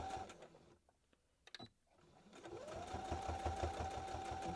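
A sewing machine runs steadily, stitching the second side of a reversible bucket hat. A few brief clicks and a short burst come first, then a loud continuous mechanical whir with rapid, even stitch pulses fills the last half.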